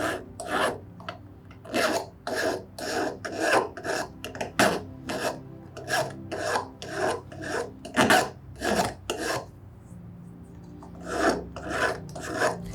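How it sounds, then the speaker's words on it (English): A metal hand file rasps the sprue off a cast silver ring in repeated back-and-forth strokes, a close, rhythmic scraping of about two strokes per second with a short pause before the filing resumes. "So when you file off the sprue, make sure you get all of it off"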